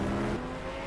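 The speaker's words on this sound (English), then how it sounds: "The replay sound, my car is loud irrespective of which car I'm on." A player's race car engine in a Project Cars 2 replay roars loudly and steadily in a brief, dense burst of engine noise.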